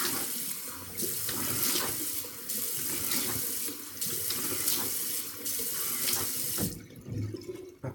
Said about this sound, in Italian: però mettiamo acqua calda.